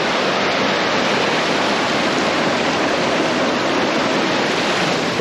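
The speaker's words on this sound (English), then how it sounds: "Thermal waters at the river." A river of thermal water in Leukerbad rushes past close by, making a loud, steady, broadband roar of flowing water with no voices.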